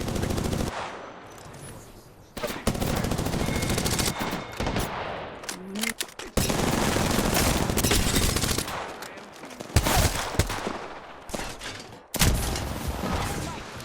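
Heavy automatic gunfire from a shooter video game, long loud bursts of rapid fire broken by short pauses and single booming shots, dense and close throughout.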